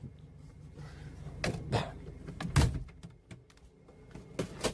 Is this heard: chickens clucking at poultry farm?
no